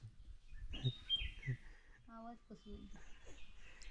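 Short chirpy bird calls sound outdoors at moderate distance during outdoor cooking, mixed with a few brief tonal squeaks and light background activity.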